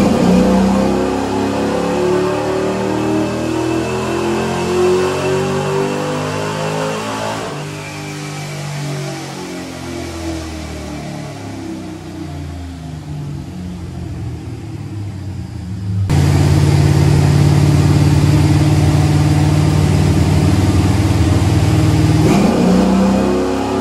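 An LS3 V8 fitted with Holley mid-length headers runs on a dyno, building through a long rising rev, dropping back, then roaring loud and steady at high load before cutting off near the end.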